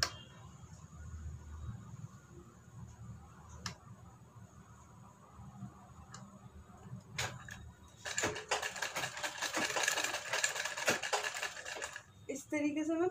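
A sewing machine stitches a U-neck collar, starting after quiet handling noises and rattling in a fast, loud, close run for about four seconds before stopping, under a woman's speech.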